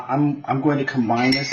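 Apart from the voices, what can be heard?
forks mixing ground beef in a bowl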